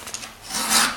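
A hand file rasping across a chainsaw chain during sharpening: a close, gritty stroke that swells louder toward its end, heard alone.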